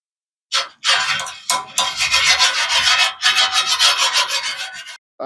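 A homemade steel griddle being seasoned has a light coat of oil rubbed down, giving close, loud bursts of scratchy rubbing and wiping strokes in uneven rhythm, separated by short pauses.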